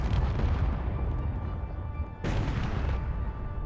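Enemy base turrets in the Space Engineers video game pound steadily from outside a bunker: continuous muffled, rumbling booms and blasts, a sharper impact landing near the end of the barrage.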